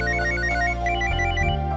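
A phone ringtone plays loudly and continuously, a bright repeating electronic melody with a steady rhythm and a low drone underneath.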